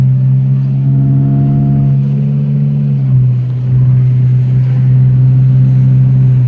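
A vehicle drones loud and steady past on Route 127 in Eaton, Ohio, its low engine tone holding for several seconds, then dipping in pitch around the midpoint and carrying on, with no voices.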